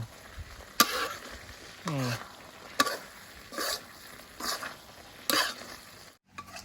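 Spicy paddy eel curry stir-fried until dry with torn makrut lime leaves, young green peppercorns and herbs, heard as short bursts of sizzle and spatula scrapes in a quiet kitchen, with a brief voice sound in between.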